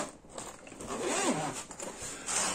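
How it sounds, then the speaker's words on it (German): A bag's zipper is pulled open in one smooth, close rasping stroke lasting about a second, with a brief rustle of fabric before and after. "Hier ist ein Reißverschluss dran."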